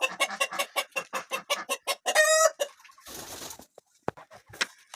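A Lakenfelder rooster gives a rapid run of loud, evenly spaced clucks close by, rising into a brief harmonic crow-like call, then a few scattered sharp calls and a soft rustle.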